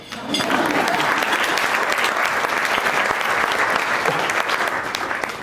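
Steady applause from a conference audience at the Mystic Hilton, dense and close-sounding clapping sustained for about five seconds without pause.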